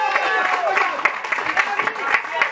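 Audience applause at a UNITALSI charity concert, a dense run of individual claps from a crowd, fairly close and steady, with some voices mixed in.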